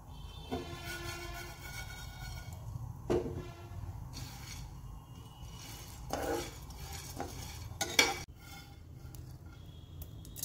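Sunflower seeds are stirred while dry roasting in a pan: soft, intermittent scraping and light clinks of a utensil against the pan, fairly quiet with no talking.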